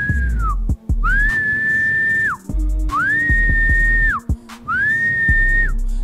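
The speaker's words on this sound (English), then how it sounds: "that's the whistling pattern that we go with" A person whistles a repeating call for pigeons, three long sustained rising-then-falling notes each preceded by short chirps, loud and close with brief breaks between phrases and no talking.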